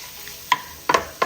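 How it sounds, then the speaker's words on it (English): Sausages and onions frying in bacon fat get stirred, giving three distinct scraping knocks of the spoon against the pan over a faint background sizzle. "I'm going to add the sausages and the onions. I'll give it a stir"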